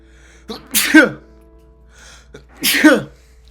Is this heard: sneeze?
yes